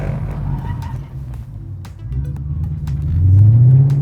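A car at a drifting lesson rumbles steadily at low revs, then its engine climbs into a loud, rising rev near the end, with no skid squeal standing out.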